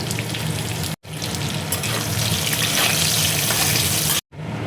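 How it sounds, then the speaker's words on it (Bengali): Pointed gourd (potol) frying in oil, a loud, dense sizzle close by that runs steadily, broken by two brief silent gaps. "পটলটা দেখো ভাজা হয়ে গেছে।"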